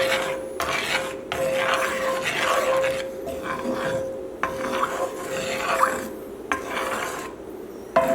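A spoon scrapes and stirs sherry wine demi-glace sauce in a pan in a home kitchen, in repeated close rasping strokes over a steady low hum.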